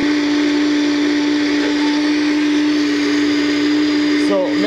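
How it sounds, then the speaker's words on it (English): A countertop blender purees bell pepper soup with onions, running as a loud, steady whir with a constant motor tone that holds throughout and breaks up briefly near the end. "So let's blend the soup."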